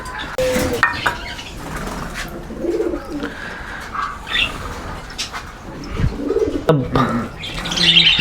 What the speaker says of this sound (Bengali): এখন ভালো করে মিক্স করে পাখিদের দিব